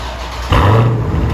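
Dodge Challenger 392 Hemi V8 with dual exhaust and the mid mufflers cut out, a loud close engine rumble that swells into a deeper, heavier burble after half a second.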